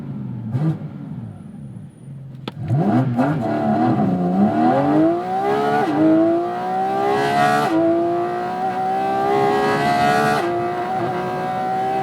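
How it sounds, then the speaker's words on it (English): Porsche 718 Cayman GT4 RS flat-six engine and intakes revving hard, with rising harmonic sweeps through repeated upshifts, loud and close over a steady rumble, no talking. "the big thing here that this has over the 911 GT3 is really the engine noise"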